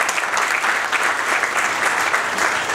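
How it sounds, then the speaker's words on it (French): An audience in a hall applauds steadily throughout, a dense loud patter of many hands clapping with no break, heard alone without talk. "c'est pas moi qu'il faut applaudir"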